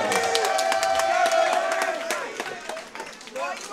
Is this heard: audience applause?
yes